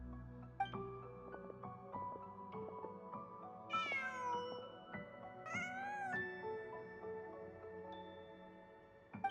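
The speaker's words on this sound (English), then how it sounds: "Just a cat." A cat in the video game Genshin Impact gives two clear, rising meows over soft background music and ambient game sound.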